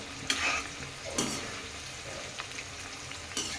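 Bitter gourd pieces fry in hot oil with a continuous close sizzle, broken by a few scraping stirs of a spoon against the pan.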